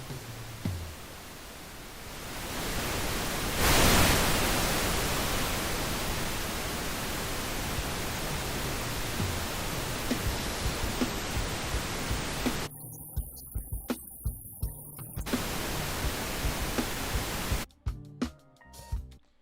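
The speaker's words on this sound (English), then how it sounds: "play some pink noise" Steady pink noise from a stereo tone generator fills the stretch as a dense, even hiss, cut off abruptly twice near the end with brief gaps.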